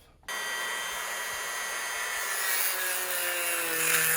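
A cutting tool trims material off a Furitek Lizard Pro motor mount on an SCX24 RC crawler. It starts abruptly as a continuous high whine that grows slightly louder and higher toward the end.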